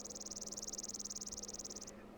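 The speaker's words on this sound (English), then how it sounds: "Everyone's favorite part of Tekkit, the bees." Bees buzz in the Minecraft Tekkit mod: a rapid, evenly pulsed high buzzing trill that runs for about two seconds and then cuts off, clear over a faint steady hum.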